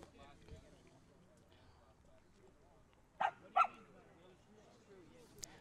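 A dog barks at a minor-league baseball game between the NJ Nationals and the Legends, two sharp yaps close together mid-clip, faint and distant beneath the play-by-play talk and ballpark murmur.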